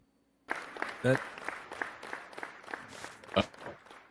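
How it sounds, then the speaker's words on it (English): A quiet, sparse golf clap from a handful of people, a few distinct hand claps spread over several seconds after a brief silence, with a couple of louder bursts and faint voices. "That's the golf clap, man."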